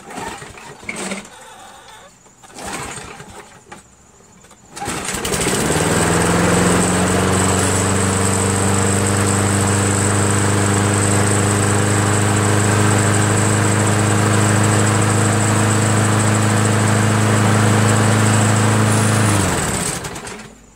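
A Yard Machines 190cc push lawn mower with a 21-inch deck, rebuilt from parts, starts and runs, a loud steady engine drone holding for about fifteen seconds alone before cutting off, after some quieter handling noise.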